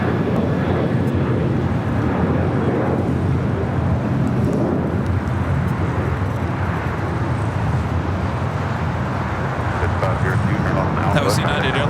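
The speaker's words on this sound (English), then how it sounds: "That was United Airlines flight 745 heading to Denver at 737-900ER." A United Airlines Boeing 737-900ER jet departs LAX, a loud sustained roar of engines holding strong throughout, with a rumbling low end and wind buffeting.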